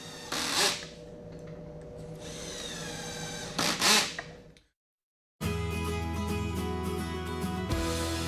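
A power drill bores pocket holes into the edges of wooden boards: two short whining bursts early on, then a longer, loud continuous run of drilling near the end.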